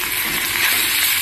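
Potatoes sautéing in a pan with green chilli, salt and turmeric, giving a continuous loud sizzle and hiss with faint stirring scrapes and no speech.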